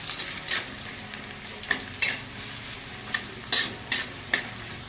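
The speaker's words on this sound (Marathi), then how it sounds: "हा कांदा चिरलेला आपल्याला याच्यामध्ये टाकायचा कांद्याला आपल्याला थोडंसं मस्त असं हलवून घ्यायचं आहे" Chopped onion fries in a pan with a gentle background sizzle, while a spoon stirs it in repeated, fairly regular scraping strokes that sound close and distinct.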